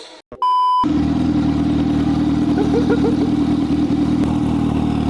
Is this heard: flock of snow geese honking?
no